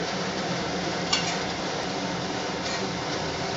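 Oil heating in a pan for frying eggs gives off a dense, continuous sizzling hiss, loud and close, with no pauses and no voices.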